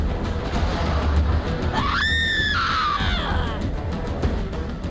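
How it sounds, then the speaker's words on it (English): A Banshee screams into a cursed recorder in the video game Borderlands 3, a single wailing, tonal shriek lasting about a second over a steady loud background rumble. "I've heard a lot of screaming in my day, but that was lovely"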